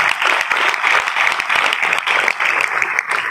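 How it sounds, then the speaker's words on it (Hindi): Loud, dense applause from a large audience at a motivational orientation event for coaching students, steady and continuous throughout with no voices over it. "तो एक बार जोरदार तालियां मोशन के लिए।"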